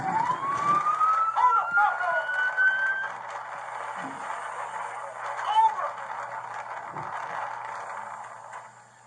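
A wailing siren rises and sweeps in the distance over steady traffic-like background noise, with a few soft thuds along the way.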